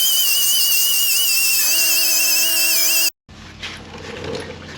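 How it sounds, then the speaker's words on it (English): A die grinder with a flap wheel works a Firebird deck lid, giving a loud, steady, high-pitched whine with shifting tones. It cuts off abruptly, and then a quieter, rougher grinding rumble follows. "I'm going to start there with a flap wheel on my die grinder and just take it back, recontour it"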